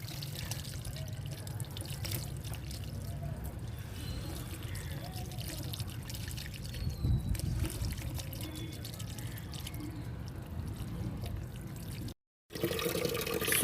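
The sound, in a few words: water poured while bathing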